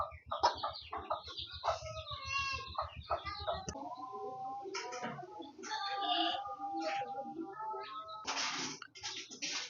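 Chickens cluck in a busy, close run of overlapping calls, with a crowing-like rooster cry early on, sharp squawks later and scattered short bursts filling the whole stretch.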